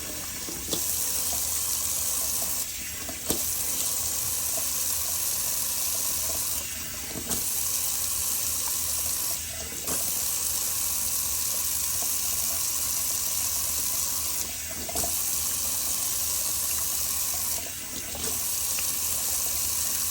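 Tap water runs steadily into a sink at close range, a continuous rushing stream broken by a few brief pauses or changes in flow, with no voices.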